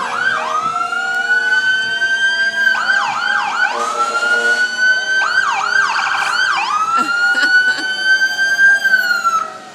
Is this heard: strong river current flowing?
no